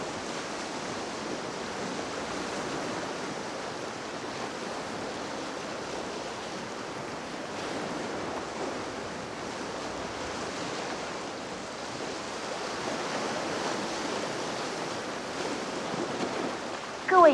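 Ocean waves on a stormy typhoon day, a dense continuous roar of surf and wind, steady and fairly distant, with no voices.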